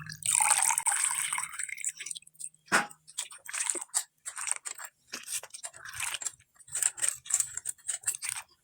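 Malabar spinach stalks being washed in water, with a wet rushing splash at first, then a run of scattered crisp drips, clicks and handling crunches close by, no talk.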